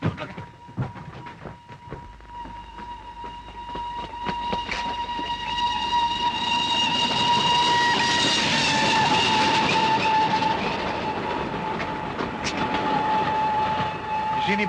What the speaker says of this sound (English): The down express and it'll be here any minute.